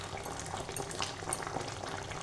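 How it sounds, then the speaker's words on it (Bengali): Prawn malai curry made with giant freshwater prawns simmering in a pan, a continuous close bubbling and crackling boil with small popping bursts throughout. "তো বন্ধুরা, মাছ ফুটতে শুরু করেছে"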